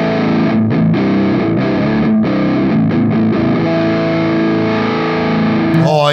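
Heavily distorted electric guitar through a NUX Metal Core Deluxe MKII pedal, chugging chords and sustained notes ringing loud and close, with no voice over it and a brief scrape near the end.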